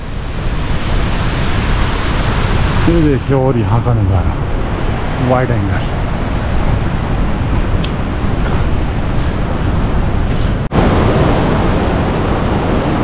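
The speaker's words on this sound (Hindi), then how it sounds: "खूबसूरत सा झरना आप लोग देख रहे होंगे यहाँ।" A mountain waterfall in the Johar Valley, running low on water after the rainy season, gives a steady, loud, broadband rush that fills the whole scene. Someone talks briefly over the constant roar.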